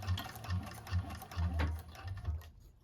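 A 1341 cylinder arm sewing machine stitches a bag in short, close bursts of rapid mechanical chatter, pausing briefly between runs before falling quiet at the end.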